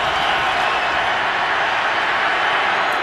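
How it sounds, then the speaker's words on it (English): A stadium crowd at an NFL playoff game in Denver gives off a dense, steady roar that stays loud and even throughout, with no distinct cheers or voices standing out. "Crowd noise"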